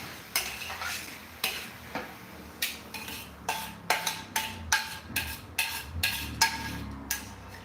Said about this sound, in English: It's nice and as deglazed as possible here.